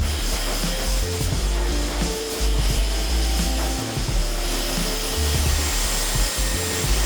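A hair dryer on its hot setting blows steadily over fine, thin hair, a loud close continuous roar with a faint whine that barely shifts for seven seconds, and nobody speaks.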